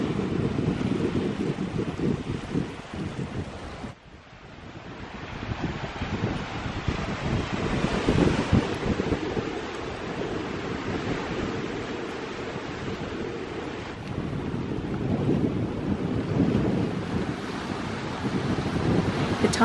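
Waves washing onto Little Molunan beach in Cornwall at high tide, a steady close roar of surf with heavy wind buffeting the microphone, with a brief lull partway through.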